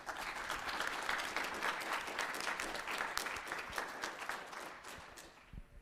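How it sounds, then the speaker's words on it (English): Audience applause after a panel discussion at a conference event, a steady patter of many hands clapping for several seconds that thins out and fades near the end. "Let's give them a round of applause."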